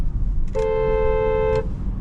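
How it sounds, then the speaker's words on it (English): A 2022 Mercedes-Benz GLC 300 sounds one steady horn blast lasting about a second, loud and close, with low road rumble underneath. "I want to honk the horn at them."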